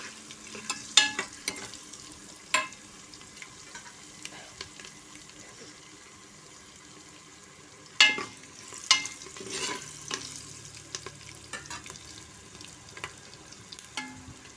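Raw peanuts are sautéed in a pan for masala brinjal rice, with a soft, quiet sizzle under scattered spoon stirs and scrapes, close by and without talk.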